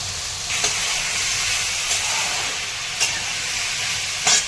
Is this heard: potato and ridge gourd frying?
yes